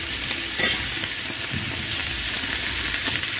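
Small, tender okra pieces sizzle steadily in hot oil in a pan for a vegetarian fry, with a constant bright hiss and a few light metallic clinks and scrapes of stirring.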